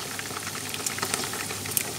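Oil bubbles and crackles steadily as chicken wings fry, with scattered sharp pops over a constant hiss.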